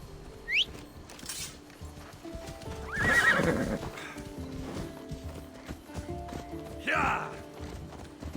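Horse in Assassin's Creed Odyssey neighs and whinnies, then its hooves clip-clop at a steady walking rhythm, fairly close and moderately loud over a faint game ambience, with a second whinny near the end.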